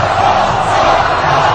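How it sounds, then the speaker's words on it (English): A stadium crowd cheering for Ron Paul, a loud, dense roar of many voices sustained without a break, close and filling the space. "the cheering is happening here for Ron Paul in the stadium"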